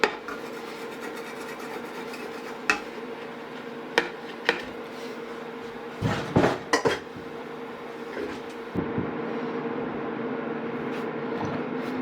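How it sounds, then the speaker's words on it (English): Egg fried rice with spring onions being dished up from a pan, with sharp clinks and scrapes of a utensil against metal over a steady background hum. "quick stir around, quick toss, and time to dish it up"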